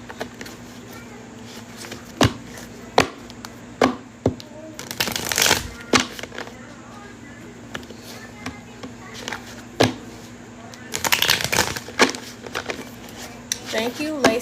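Tarot cards riffle and snap in sharp bursts, with quieter handling and soft tapping between them, close up against a low steady hum.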